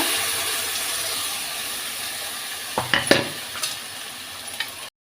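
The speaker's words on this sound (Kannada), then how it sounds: "ಇದರ ಹಸಿ ವಾಸನೆ ಹೋಗುವವರೆಗೆ 1 ನಿಮಿಷ ಹೀಗೇ ಫ್ರೈ ಮಾಡ್ತಾ ಇರಬೇಕು" Ground masala frying with browned onions in hot oil, a steady close sizzle broken by a few scraping stirs and clanks of a spoon against the pan, then stopping abruptly, with no talk.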